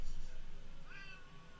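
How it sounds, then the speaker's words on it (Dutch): A cat named Pixel gives a short meow, close and clear, over a low indoor hum. "het beest heeft miauwt op dit zo'n bord"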